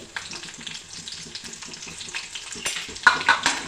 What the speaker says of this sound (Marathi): आता हिरवी मिरची घालत आहे